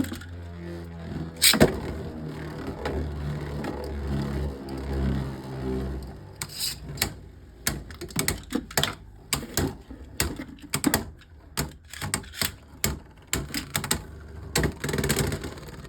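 Beyblade Burst Pro Series spinning tops from the Mythic Beasts Collection whir loudly after launch, then clash repeatedly in a stadium with a rapid series of sharp clacks and scrapes, close up and without talk.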